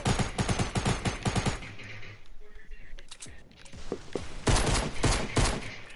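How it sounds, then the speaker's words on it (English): Rapid gunfire bursts in the video game Fortnite, dense automatic volleys loud and close, with keyboard clicking mixed in and a pause before more shooting resumes. "Robo's shooting."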